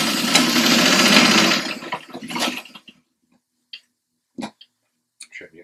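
Sewing machine stitching straight across fabric for an upcycled dog bed, a loud, steady mechanical whir lasting about two seconds, then a shorter burst, followed by scattered small clicks and handling taps in near silence.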